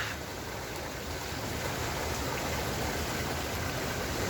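A river in a town flows steadily nearby, a constant broadband rushing with no breaks or voices.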